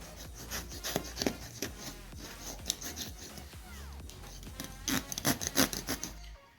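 A knife slicing through foam in repeated rasping rubbing strokes, close and fairly soft, quickening into a denser burst of cuts near the end before stopping.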